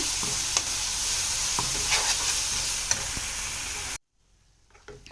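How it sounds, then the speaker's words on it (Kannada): Ginger garlic paste frying and being stirred in a pan, a steady bright sizzle with scattered spoon scrapes for about four seconds before it cuts to near silence. "ಇದನ್ನು ಚೆನ್ನಾಗಿ ಫ್ರೈ ಮಾಡ್ಕೋಬೇಕು ಇವಾಗ."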